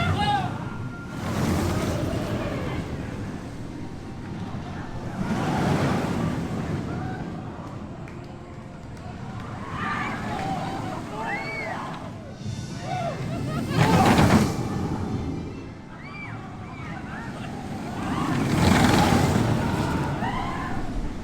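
Taron, a launched roller coaster at Phantasialand, ridden from onboard: heavy wind rush swells and fades in repeated surges, with riders' screams rising over the roar.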